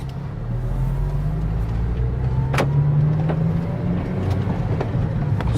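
A turbocharged Honda Civic Si idles close by on a driveway, a steady low engine drone with a slowly rising tone, a brief clunk as it goes into gear, then the running note sags as the engine stalls.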